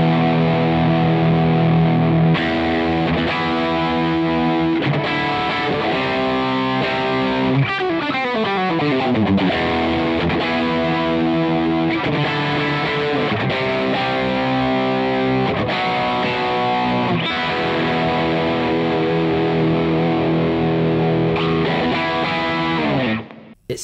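Electric guitar played through an Amplified Nation Wonderland Overdrive amp, loud and upfront, with sustained overdriven chords, sliding bends and ringing notes that move from edge-of-breakup grit to heavier crunch before stopping abruptly.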